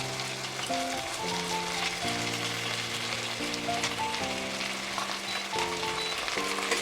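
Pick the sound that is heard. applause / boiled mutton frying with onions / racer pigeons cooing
boiled mutton frying with onions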